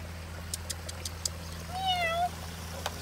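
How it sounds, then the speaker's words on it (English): A zoo bobcat gives a single drawn-out meow-like call amid quiet ambient hum and a few faint clicks. "What is this, a bobcat?"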